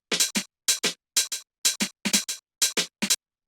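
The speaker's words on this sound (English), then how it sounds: "If I play this with the hi-hat" Detroit house drum pattern of rim shot samples played with hi-hat: crisp, dry percussive hits in quick pairs, repeating steadily about seven times at an even groove, close and alone.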